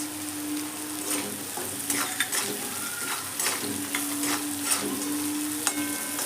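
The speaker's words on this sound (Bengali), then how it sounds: "সবজিটা আমার প্রায় ভাজা ভাজা হয়ে এই সময় আমি দিয়ে দিচ্ছি কিছু কাজু কুচি দিচ্ছি কিছু কিসমিস" Chopped vegetables frying in a pan as chopped cashews and raisins are added, cooked over medium heat: a steady, close sizzle with intermittent stirring scrapes and light utensil taps, and no talking.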